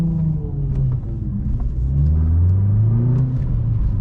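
Vauxhall Corsa 1.4 with a loud aftermarket exhaust accelerating at night, a deep droning engine note rising steadily in pitch, heard close and loud from inside the car.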